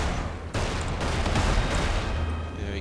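Gunfire rattles through a fight in the wizard game Magicka, a dense, loud volley of shots and blasts rolling on continuously with a sharp burst near the start and no talking.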